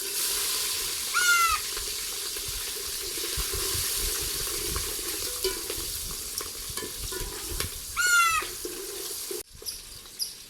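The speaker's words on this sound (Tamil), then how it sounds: "இப்போ வந்து பச்சை மிளகாய் போட்டுக்கலாம்" Green chillies dropped into hot oil with fried cinnamon for chicken biryani, a continuous close sizzle with stirring scrapes and a few brief squeaks, ending abruptly.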